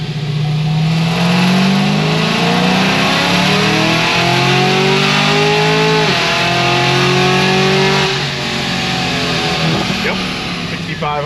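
A Cadillac CTS-V2 engine revs hard and climbs through a 3-4 gear shift near 6500 rpm, its loud, close rising whine dipping briefly at the shift before pulling again, with a voice talking over it.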